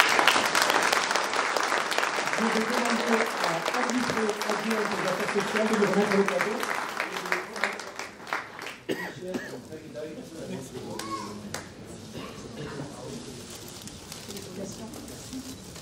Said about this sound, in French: la ville de Tarnos salue très sincèrement ici Michel Barrault sous vos applaudissements